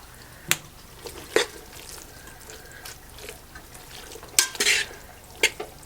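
A spoon mixes pesto into bowtie pasta, giving scattered wet clicks and soft scrapes against the pot, with a few sharper knocks over quiet background and no talk.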